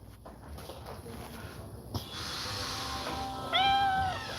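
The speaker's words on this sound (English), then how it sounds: "The cat had appeared out of the blue, and after meowing once" A single clear cat meow from the Time Princess video game, rising then holding, enters near the end over a steady background hum of game ambience.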